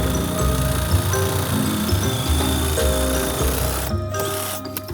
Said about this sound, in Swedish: Ska vi ta tigersågen och bara såga sönder skiten.